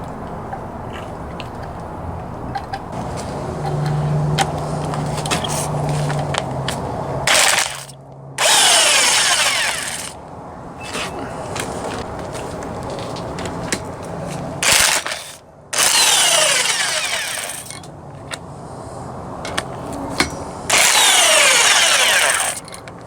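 A power tool spins off 10 millimeter nuts on a 1990s Honda HG racing engine, with several loud whirring bursts of a few seconds each, separated by quieter clicking and handling noises.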